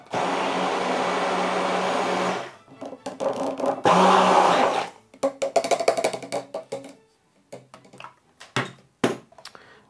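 Blender whirring as it mixes honey with 90 ml of water into a honey syrup, a steady loud motor drone for about two and a half seconds, a second short burst, then scattered clatters and knocks.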